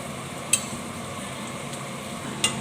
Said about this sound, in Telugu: కొంచెం ఆనియన్ ఫ్రై అయినాయి కదా, కొంచెం 2 minutes ఫ్రై అయ్యాక మనం పొటాటో కూడా వేసుకుందాము